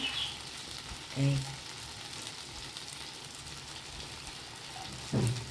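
Bitter gourd curry with stuffed gourds sautés in a pan with kasuri methi and ghee, giving a steady soft sizzle throughout, with two brief stirring scrapes near the start and the end.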